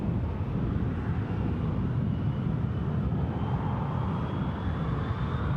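Air Malta airliner passing at an airport, a steady broad engine roar heard from a moderate distance with a faint rising whine, continuous and unbroken, no talking.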